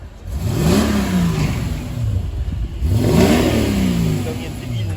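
A 5.5-litre V8 engine in a Mercedes CL500 coupé revs hard twice nearby, each rev climbing sharply then falling back, with a loud idle rumble between them.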